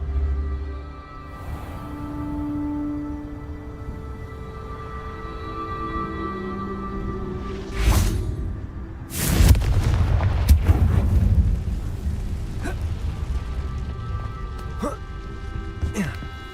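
A Confringo explosive spell cast in Hogwarts Legacy lands as a sharp crack followed by a louder burst and crackling debris, set against a soft musical game backdrop with talk heard earlier.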